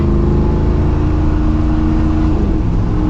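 A Kaiser Jeep M715 military truck fitted with a modern engine revs strongly and smoothly. The steady, throaty drone stays close and loud throughout, with a slight pitch shift near the end.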